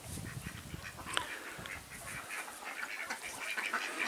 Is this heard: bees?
no